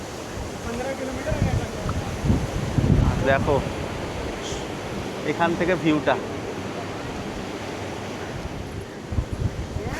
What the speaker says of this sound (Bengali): এই সময়ে এত ঢেউ সমুদ্রে আর সেই হাওয়া দিচ্ছে।